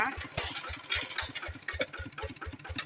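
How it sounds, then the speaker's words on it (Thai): A second-hand RT100 walk-behind tractor engine runs at a steady idle, close and loud, with an even pulsing knock and a mechanical rattle above it. "มาดูรถทดลองขับนะคะ ลองติดเครื่องลองขับดูได้ค่ะ"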